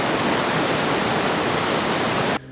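A mountain river flows steadily in Colorado's Rocky Mountains near Estes Park, a loud, continuous broadband rush of water close by that drops away abruptly just before the end.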